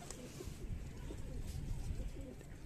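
Rampuri highflyer pigeons coo softly in a loft, low throaty calls overlapping in a faint, continuous murmur.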